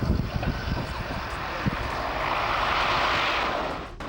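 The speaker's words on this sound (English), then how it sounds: "The pilot of this Italian Air Force G222 transport plane certainly put on a magnificent display" An Italian Air Force G222 transport plane touching down, its engines roaring loudly and steadily, with brief bumps early on before the drone swells and then drops away sharply at the end.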